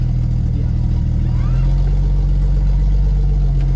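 A Jeep XJ engine works up a hill off-road, a low steady drone that deepens and strains partway through as the load increases, loud and close throughout.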